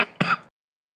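A man gives a short cough or throat-clear, one weak burst then a stronger one, close and alone, followed by silence.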